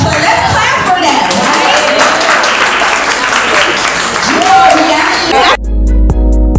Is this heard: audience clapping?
yes